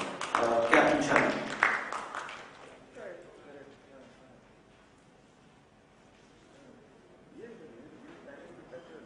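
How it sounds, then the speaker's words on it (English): Audience applause welcoming Captain B.V.J.K. Sharma, Joint Managing Director of JSW, at a ports summit inaugural session: a loud burst of clapping for about two seconds that fades quickly into quiet room tone, with faint talk afterward. "Please welcome him with a round of applause, Captain Sharma."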